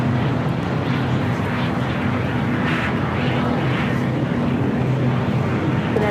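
Jet aircraft idling and taxiing on the ground at LAX airport, a steady loud low rumble with broadband roar, continuous and close, with no talk heard.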